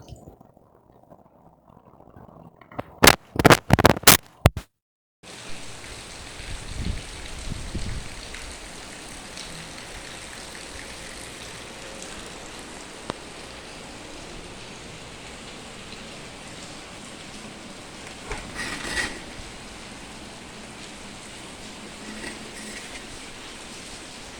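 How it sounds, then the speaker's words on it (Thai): Heavy rain pours steadily in a dense, hissing wash, starting abruptly after a few sharp bangs and continuing loud and unbroken throughout, with no talking. "ฝนตกหนักมาก"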